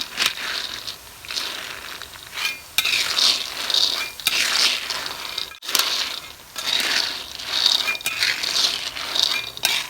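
Dry-roasting ingredients in a pan over low heat until the moisture cooks off for a Lao-style snack, a steady crackling sizzle with dense clicks and rattles running continuously with brief dips.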